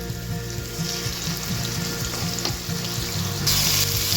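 Green seasoning blend of shadowbeni, onion, garlic and pimento peppers hits a hot pan and sizzles loudly and steadily, a continuous frying hiss that swells near the end.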